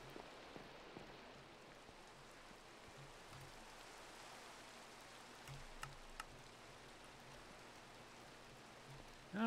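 Steady, soft rain falling in the video game Minecraft, a quiet continuous hiss of drops with no talking over it.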